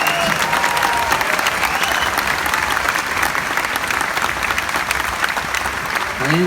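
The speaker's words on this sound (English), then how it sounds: "applause for Sergeant First Class Randy White" An audience at an Epcot performance by the Jazz Ambassadors of the United States Army Field Band applauds steadily for Sergeant First Class Randy White, a full, sustained clapping from a sizable crowd.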